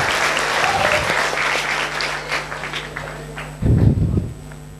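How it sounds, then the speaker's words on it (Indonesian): An audience at a university lecture event claps for the social and political sciences faculty, a loud sustained burst of applause that fades, with a low hum and a brief thump of handling noise near the end. "Tepuk tangan untuk FISIP."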